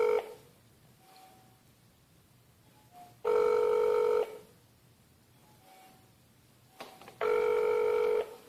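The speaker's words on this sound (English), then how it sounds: "Doug Hinsel, transferring you to Doug Hinsel" During a transferred phone call, a telephone ringback tone sounds in two distinct, loud, evenly spaced bursts with quiet line hiss between them.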